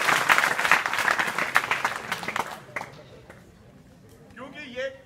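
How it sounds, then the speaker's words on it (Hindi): Audience at a college event in Azamgarh claps loudly and steadily for a few seconds, the applause fading out, followed by quieter room noise and a brief voice near the end. "आप सभी के लिए और इन सब के लिए एक जोरदार ताली मारें"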